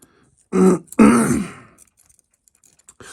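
A person clears their throat twice in quick succession, a rough, phlegmy rasp up close, followed by quiet.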